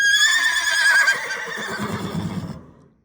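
Mare Minnie lets out a loud, clear whinny, a high wavering neigh that slides down in pitch and fades over about two and a half seconds, followed by softer breathy low sounds trailing off into quiet.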